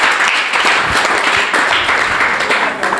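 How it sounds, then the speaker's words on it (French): Loud, close applause from a school audience at a book donation ceremony at Lycée Sambou Oumane Toure in Medina Sabakh, honouring a former teacher, with dense clapping and a few sharper individual claps throughout. "monsieur Diatta, que je voudrais que vous applaudissiez pour moi"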